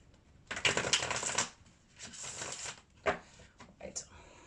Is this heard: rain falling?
no